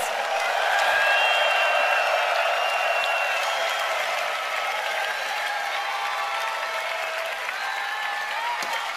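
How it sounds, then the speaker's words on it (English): Eurovision Song Contest arena audience, 2014, breaking into sustained applause with cheering, a dense, loud wash of clapping from a huge crowd that holds steady throughout. "Give yourself a big round of applause"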